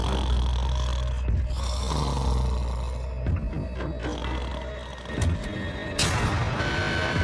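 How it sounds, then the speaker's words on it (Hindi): A man snoring in his sleep at night, loud, heavy breaths repeating in long rumbling cycles, close to the microphone, with a louder snort near the end. "वो स्टूपिड कॉप सारी रात खर्राटे मारता रहा।"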